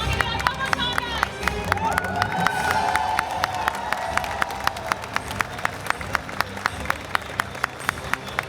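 Crowd of spectators at a gaming convention cosplay contest clapping and cheering steadily for costumed contestants, dense and sustained with sharp claps throughout.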